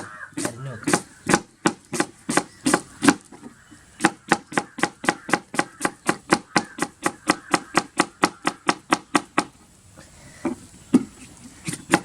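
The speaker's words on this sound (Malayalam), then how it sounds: "നമുക്ക് ഉള്ളി കട്ട് ചെയ്ത് നോക്കാം" An onion is chopped with a knife on a board in a close, even run of about thirty-five sharp strikes with a short pause partway. The strikes become sparse and softer near the end.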